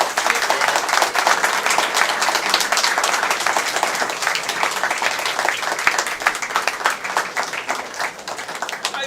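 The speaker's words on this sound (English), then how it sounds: "Ladies and gentlemen, can we have a big round of applause?" Steady, dense applause from an audience at a Japanese upskill day event, a continuous round of many hands clapping that holds loud for about nine seconds without a break.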